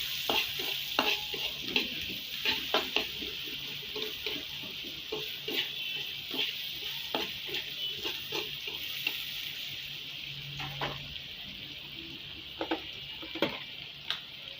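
Chopped onions fry in a pan of oil, giving a steady, close sizzling hiss broken by scattered clicks and scrapes of stirring, with no talking.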